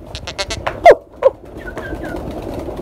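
Pigeons perched on a rooftop give a few soft coos, with a couple of louder flutters or calls mid-clip over faint background noise.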